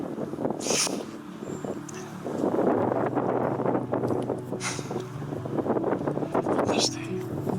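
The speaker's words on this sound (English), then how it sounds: "The wind was blowing so hard." Strong wind buffeting the microphone in the Turkish mountains during an ibex hunt, rumbling gusts that rise and fall, with someone speaking over it.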